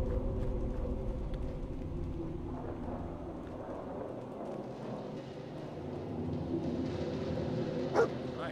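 A dog in the Fallout 4 game, modded with Silent Hill content, barks faintly at a distance against a low, rumbling ambient background that sounds like a storm.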